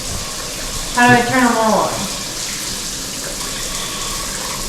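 Water spraying from a newly installed shower fitted with a six-position diverter valve, a steady hiss running through the clip while a person speaks briefly over it.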